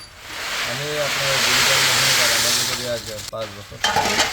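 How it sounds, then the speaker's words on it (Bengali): A digital peanut-roasting machine lets out a loud, steady hiss of roasting and stirring, with a voice talking over it and a few clatters near the end. "আপনি যে ডিজিটাল মেশিনে বাদাম ভাজি করেন"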